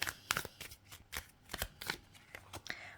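Tarot cards being handled and drawn, a close series of soft riffling, slapping card sounds in irregular bursts, quiet and alone.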